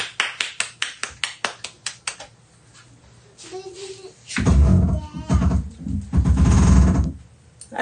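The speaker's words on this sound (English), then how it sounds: "Give yourself a round of applause." Several sharp claps ring out in a quick, evenly spaced series, loud and close, followed by quieter room sound and then a stretch of louder, broadband noise with talking.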